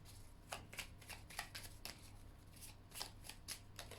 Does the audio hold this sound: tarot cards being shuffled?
yes